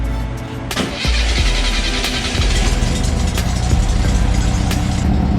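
A freshly rebuilt engine fitted with its air cleaner catches and settles into a loud, steady idle, a continuous low rumble with no talking.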